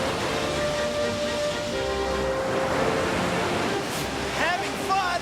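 Ocean waves wash in a continuous broad rush of surf, with bright squeaky voices and playful sounds breaking in near the end.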